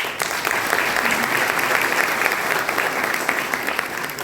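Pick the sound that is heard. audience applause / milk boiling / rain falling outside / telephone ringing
audience applause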